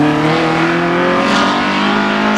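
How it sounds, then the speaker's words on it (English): A hillclimb race car with a conventional car engine accelerates hard at Shelsley Walsh. The loud, close engine note rises in pitch with a buzzing, rasping edge and is heard alone. "This particular one's got a conventional car engine."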